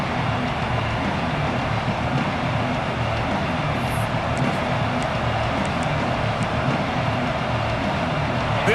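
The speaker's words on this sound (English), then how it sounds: "This place is roaring, and it's going to be so hard to operate under these conditions." A packed stadium crowd roaring in the video game College Football 26 during a game against Notre Dame, a dense, loud, unbroken wash of noise that holds steady from start to finish.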